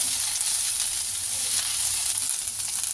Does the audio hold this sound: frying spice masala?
yes